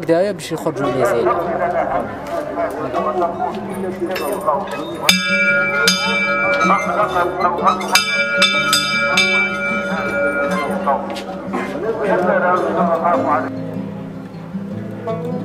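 A school bell rings loudly in Bordj Zammoura, Algeria, in bright metallic bursts partway through, while someone talks and a crowd chatters in the background.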